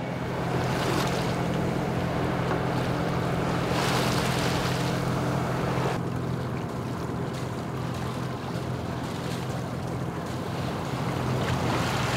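A sailboat's engine drones steadily as it motors on the sea toward Istanbul, beneath constant wind buffeting the microphone and the wash of water, loud and unbroken throughout.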